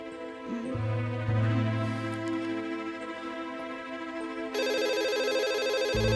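A telephone rings continuously and loudly in an indoor scene, its electronic tone shifting to a brighter, busier ringtone pattern partway through, with no speech over it.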